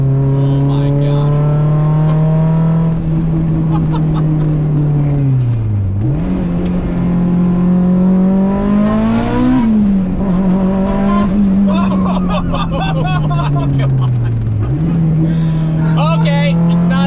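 An 800 WHP Mitsubishi Evo 8 four-cylinder engine revs hard and climbs through the gears, its loud, buzzing note rising steadily and dropping sharply at each of three shifts, with a whine riding over the top.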